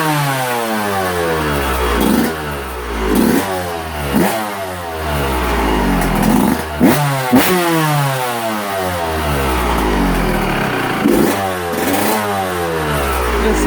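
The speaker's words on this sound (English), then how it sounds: "It's such a good, clean running bike." A motorcycle engine runs smoothly and close by, idling with repeated throttle blips that rev it up and let it settle back, with no talk over the steady mechanical drone.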